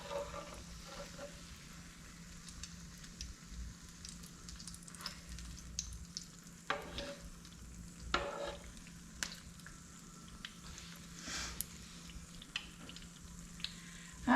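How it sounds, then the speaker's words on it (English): Apple pies frying in hot peanut oil give a steady, close sizzle with soft bubbling and occasional louder crackles and pops, and no voices. "I'm using peanut oil to fry my pies in"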